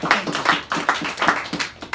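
Audience applause at a talk, a fairly close, lively patter of many hands clapping in quick uneven bursts for about two seconds, with no one speaking over it.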